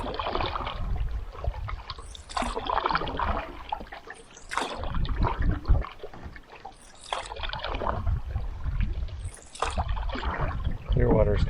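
Canoe paddle strokes on Clearwater Lake, repeating in a steady rhythm with splashes and dripping water close by, while a person talks over them now and then.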